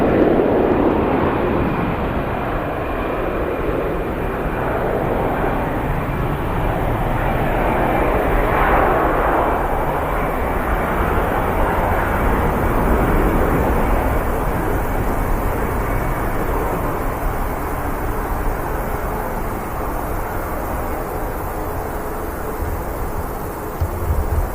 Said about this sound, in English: It's got EasyJet departing first,